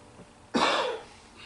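Someone in a workshop audience coughs once, a short sharp burst standing alone against faint room tone.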